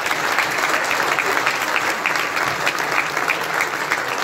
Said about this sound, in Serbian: Veliki aplauz za Judo klub Cement.